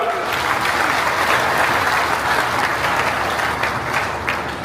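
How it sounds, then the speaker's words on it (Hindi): Steady, sustained applause from a large crowd at a public event welcoming guests ahead of a chief minister's arrival, loud and dense throughout with no gaps. "जोरदार तालियों से स्वागत करें, जोरदार तालियों से"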